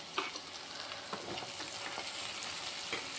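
Broad beans (chikkudukai) fry in a pan with a steady close sizzle, broken by a few soft scrapes and taps of a spoon stirring them, and no voices.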